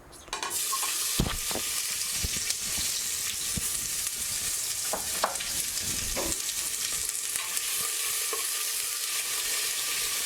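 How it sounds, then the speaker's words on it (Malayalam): Thinly sliced onions fry with a steady, fairly quiet sizzle in a pressure cooker, broken by scattered clicks and scrapes of stirring. "ഇതിലേക്കൊരു 2 സവാള നീളത്തിൽ കനം കുറച്ച് അരിഞ്ഞ് വെച്ചിട്ടുണ്ട്. അത് ഇതിലേക്ക് ചേർത്ത് കൊടുക്കുക."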